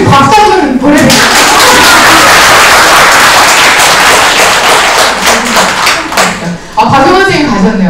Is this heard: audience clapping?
yes